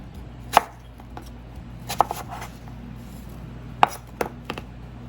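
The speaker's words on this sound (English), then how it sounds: "So I'm going to continue slicing some apples" A knife slicing gala apples on a cutting board, a few distinct sharp taps spaced unevenly over a quiet kitchen background.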